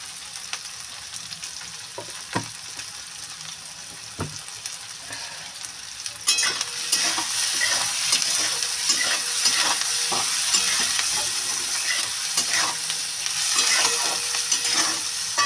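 Food frying with salt and a little turmeric is stirred in a pan, steady sizzling throughout with scraping stirs, growing louder and denser after a brief quieter start; no talk.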